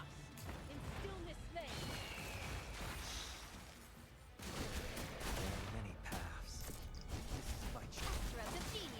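Rapid gunfire and mechanical weapon clatter from the action game Punishing: Gray Raven, dense bursts and ratcheting clicks layered with game effects, with a person talking over the top throughout.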